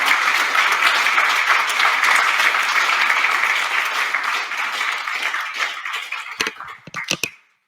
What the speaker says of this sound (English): perhaps you give our three speakers a round of applause.